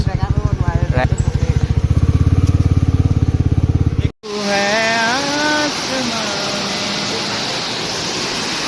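A motorcycle engine idles close by with a rapid, throbbing pulse for a few seconds, then cuts off abruptly into a loud, rushing roar.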